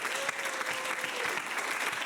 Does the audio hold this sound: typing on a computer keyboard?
no